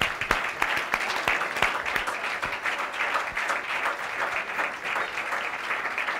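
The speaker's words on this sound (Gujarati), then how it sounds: "અને સૌ કલાકારોને આપણે તાળીઓથી ખૂબ વધાવીએ." A crowd applauds the performers after a drama at a cultural programme, with sustained clapping and sharp individual claps standing out over the continuous patter for several seconds, moderately loud.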